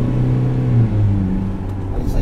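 A Ford Ranger FX4 turbo diesel accelerates off the line with a loud, close, low engine drone that holds steady throughout the short stretch.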